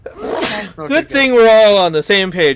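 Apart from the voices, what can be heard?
sneeze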